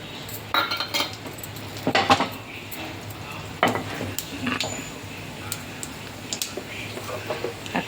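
Mustard seeds going into hot oil in a pan as tempering for sooji dhokla, with irregular metallic clinks and scrapes of a spoon against the pan over a faint sizzle, close by and without speech.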